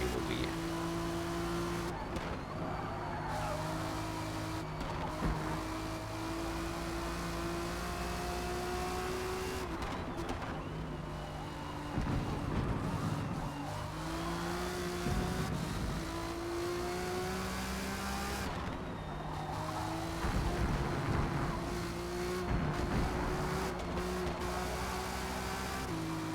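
A race car in the Forza Motorsport video game laps a circuit, its engine rising through gears and dropping sharply under braking into corners, a steady loud drone with repeated revving cycles.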